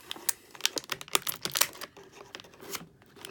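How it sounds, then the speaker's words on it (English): Sharp irregular snips and crinkly clicks come from plastic packaging being cut off a Rise of the TMNT Leonardo action figure, close and moderately loud with short pauses between cuts. "Trimming the plastic off his hand so I can pop Leonardo out."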